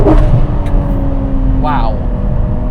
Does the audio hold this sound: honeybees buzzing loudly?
no